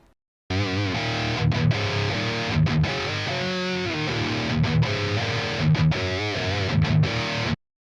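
Heavily distorted electric guitar through the Mega Fluff setting of an amp simulator plays chugging riffs with brief pauses between phrases, loud and close, no talking.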